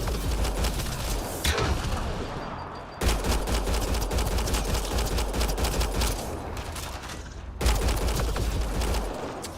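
Rapid automatic gunfire rattles in bursts during a firefight in the video game Mass Effect Andromeda, loud and close, with short pauses between volleys.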